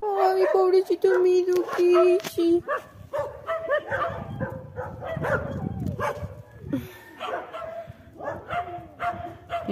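A pack of street dogs barks, yips and howls in overlapping bursts, loud and close at first, then more scattered calls with voices mixed in.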